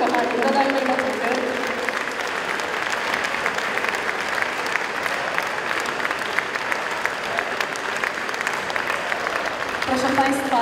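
An audience at a Christmas carol concert in an old mine venue applauds the alumni of a song and dance ensemble, loud sustained clapping filling the hall, with brief voices at the start and end.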